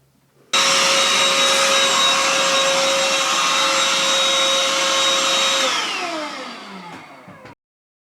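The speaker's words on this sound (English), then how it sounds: "It is really helpful to have a hand vacuum because it helps you keep the workspace tidy." A hand vacuum runs on a workshop bench while tidying up after making Halloween masks, a loud steady whine that starts abruptly, holds for several seconds, then winds down as the motor slows and stops.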